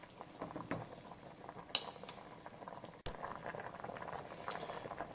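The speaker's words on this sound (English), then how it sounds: "give the potatoes a quick stir here as we boil them" Potato chunks boil in a pot of water, giving a soft, continuous bubbling patter with scattered light pops and a brief clink midway, all fairly quiet and close.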